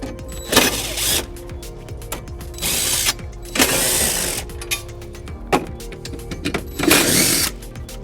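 A ratchet loosens 13 mm screws on the battery housing of a 2009 Volvo XC90, heard as loud, close bursts of rapid clicking broken by brief pauses and with no talking.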